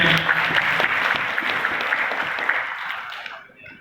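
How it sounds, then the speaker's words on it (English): An audience at a national workshop on sports and health claps for a speaker, a dense burst of applause that fades out after about three seconds. "So big claps for this gentleman."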